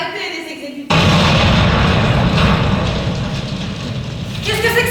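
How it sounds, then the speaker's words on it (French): A sudden loud explosion booms in after a quieter stretch, its broad rumbling blast sustained for several seconds before fading slightly. "J'ai entendu une explosion, c'est quoi?"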